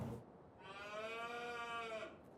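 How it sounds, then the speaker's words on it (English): In Farming Simulator 25, on the Hutan Pantai map, a sheep gives a single drawn-out bleat that lasts about a second and a half, clear and close against quiet farm ambience. "There's some sheep as well. I heard a baby bleating somewhere."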